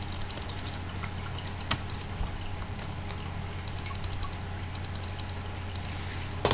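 Quiet typing on a computer keyboard, bursts of light rapid key clicks separated by pauses over a low steady hum, close by with no voices.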